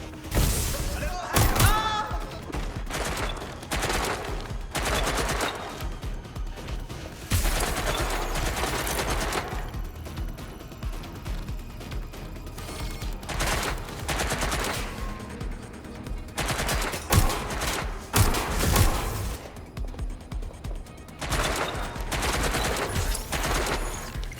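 Watch Dogs: Legion firefight with dense bursts of automatic gunfire and single shots, loud and close, mixed with thuds and impacts throughout, while in-game voices speak between the volleys.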